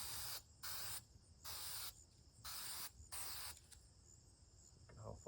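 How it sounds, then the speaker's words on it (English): Spray bursts hiss in short repeated pulses, about five in a row, as adhesive is applied while reupholstering a 1967 Plymouth Barracuda bucket seat, close and clear over a quiet workshop background. "Go ahead and spray it again."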